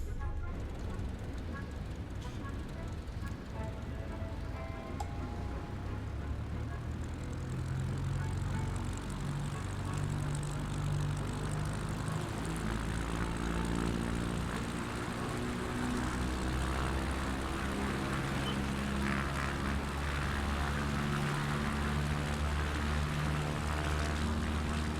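A single-engine propeller plane climbs out after takeoff in Microsoft Flight Simulator 2024, its engine a steady, loud droning hum with rising harmonic tones throughout.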